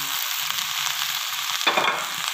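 Onions, turmeric and sajina (drumstick) flowers fry in a pan with a steady, close sizzle; a louder burst of crackling rises near the end as the mix is stirred, with no voices.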